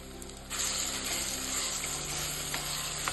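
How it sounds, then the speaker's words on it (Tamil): Tomatoes sauté with onion and rock salt in a pan for Ayila fish curry, a soft sizzle that swells after a brief quieter start, close but fairly faint, with occasional light clicks and no speech. "தக்காளி நல்ல குழைவாக வரணும்னு வதக்கி எடுக்கணும்"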